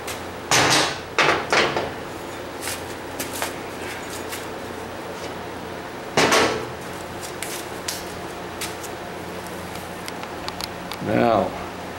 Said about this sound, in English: Let me bring this piece of tubing over here, and it's pretty hefty.